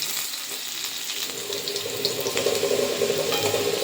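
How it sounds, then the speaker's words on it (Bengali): Potatoes frying in hot oil in a home kitchen, a steady sizzling hiss that thickens and grows louder partway through, with no voices. "আলুটা খুব সুন্দর করে লাল লাল করে ভেজে নেব"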